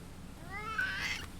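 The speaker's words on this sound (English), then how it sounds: "There is Cat." A large pet cat named Norris gives one rising, drawn-out meow at moderate volume against a faint background hum.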